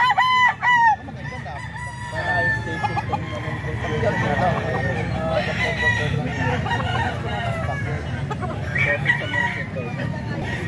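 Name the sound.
rooster crowing and clucking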